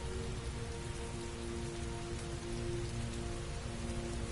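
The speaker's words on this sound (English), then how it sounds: "Heavy rain. It's been the same for weeks." Heavy steady rain pours down in the PS5 game Heavy Rain, a dense continuous hiss of drops on surfaces that holds at an even level throughout with no voices.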